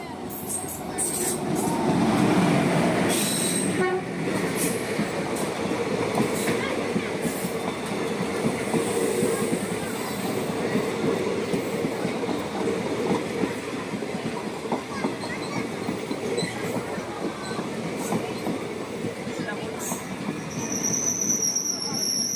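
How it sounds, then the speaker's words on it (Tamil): Intercity Express train bound for Coimbatore running steadily past a railway crossing beyond Dindigul, a continuous loud rumble of wheels and wagons with rail clatter and occasional squeal, persisting for the whole stretch. "கோயம்புத்தூருக்கு போகிற அந்த இன்டர்சிட்டி எக்ஸ்பிரஸ் வந்து திண்டுக்கல் தாண்டி வந்துட்டுருக்கு"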